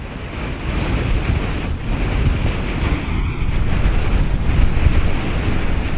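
Afternoon wind blows hard across a desert excavation site at Nazca, a loud, steady gusting rush with microphone buffeting and no voices.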